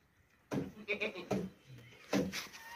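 Dairy goats at a livestock market bleating in several quick, nasal calls, close and fairly loud, with short pauses between the cries.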